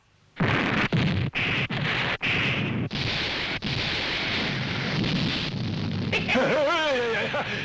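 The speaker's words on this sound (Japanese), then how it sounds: "砲弾装填、発射用意。" Cannon shells fired in a Japanese tokusatsu execution scene, a rapid series of loud booming blasts in quick succession followed by a sustained roar, with a voice rising near the end.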